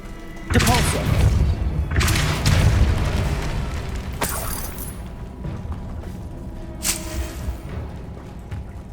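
Depulso force spell cast in Hogwarts Legacy, a sudden heavy boom followed by a rumbling thud and a softer second impact, with a few sharp magical bursts trailing off.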